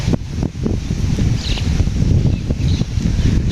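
Wind blows outdoors near a pond and poultry farm, buffeting the microphone with a continuous low rumbling roar and gusty swells, accompanied by faint rustling.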